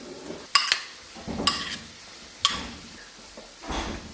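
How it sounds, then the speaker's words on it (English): A spoon knocks and scrapes against a bowl as pico de gallo ingredients are mixed together, a few distinct clinks spaced about a second apart with softer shuffling between, close and without talking. "Mix it all together and you'll have a lovely pico de gallo."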